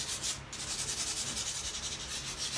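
Rough 80-grit sandpaper rubbing a textured painted surface by hand, a close, steady scratchy rasp in quick back-and-forth strokes with no talk.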